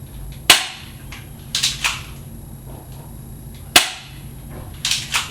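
A Crosman Stinger P311 spring airsoft pistol fires 12 gram BBs indoors. Two loud, sharp cracks sound about three seconds apart, each followed by softer clattering impacts, over a low steady background hum.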